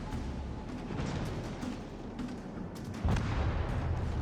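A battleship's secondary guns firing in a naval combat video game, dense rumbling booms and repeated blasts rolling over each other with a heavier thump near the end, loud and continuous.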